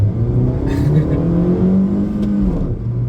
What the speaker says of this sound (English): let's do one final wheel spin